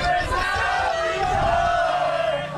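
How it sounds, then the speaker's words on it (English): A wrestling crowd at a Ring of Honor match chanting Silas Young's entrance music in unison, a loud sustained sing-along of many voices filling the arena without pause. "The crowd seems to still be singing Silas Young's entrance music, Sheep."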